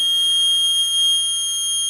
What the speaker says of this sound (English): The alarm's now gone off.